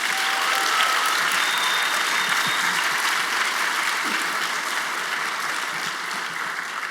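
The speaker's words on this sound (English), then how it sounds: "one more round of applause, please?" Sustained applause from a large crowd, a dense wash of clapping that holds steady and tapers slightly toward the end.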